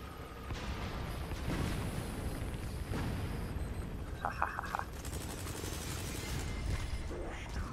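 Bombardment explosions in the video game Metal Gear Solid 5, a series of heavy rumbling booms with mechanical clatter and a brief tonal game cue, loud and continuous.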